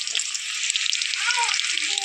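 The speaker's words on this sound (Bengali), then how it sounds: "আলুটা আমার ভাজা হয়ে গেছে" Potatoes fry in hot oil with a dense, close, continuous sizzle that stays steady throughout, with faint bubbling underneath.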